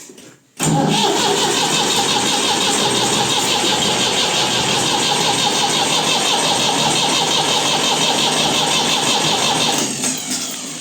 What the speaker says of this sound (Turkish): O şekilde çalıştıracağım hemen. Marş basıyoruz.